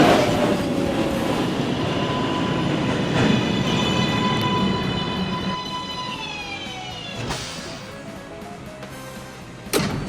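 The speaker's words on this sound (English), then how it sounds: "There's a Manhattan-bound 1 train." An R142A 1 train on the New York subway running along the rails, a steady rumble with a rising whine of the motors, fading slightly over time before a sharp clank near the end.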